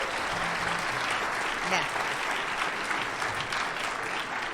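An audience at a state honors jazz concert applauds a soloist, with steady, dense clapping throughout and a brief spoken word over it.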